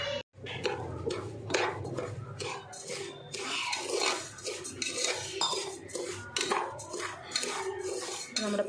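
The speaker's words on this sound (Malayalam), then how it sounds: "നമ്മുടെ പഞ്ചസാരനൊന്ന് ഇളക്കി കൊടുക്കാം" Sugar being stirred in a pan while it caramelises for payasam, a spoon scraping and clinking against the metal pan in dense, continuous near strokes with no talk.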